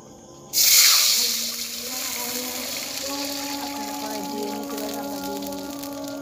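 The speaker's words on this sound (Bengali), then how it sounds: "আমরা এখন নুডলস সিদ্ধ করার জন্য নর্মাল পানি ব্যবহার করব" Plain water pours into a pan to boil noodles during an outdoor picnic. It starts with a sudden splashing gush, then settles into a steady pour whose tone rises as the vessel fills.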